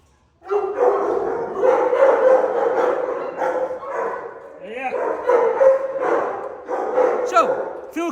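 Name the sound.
dog barking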